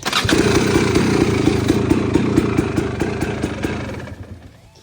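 A Mitsubishi Starion engine starts from cold with no choke, catching at once and running loud and steady at a fast, uneven idle before the sound fades off near the end.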